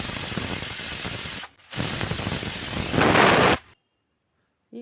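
Pressure cooker whistling while cooking vegetable dal sambar, a loud hissing steam whistle that breaks off briefly, resumes, intensifies, then stops abruptly into silence.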